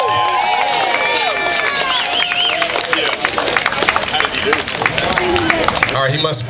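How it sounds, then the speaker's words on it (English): Outdoor crowd clapping and cheering for the second-place finisher at a Christmas-themed 5K race in Columbus, Georgia, scattered applause and whoops mixed with lively chatter and voices throughout. "Y'all give him a round of applause."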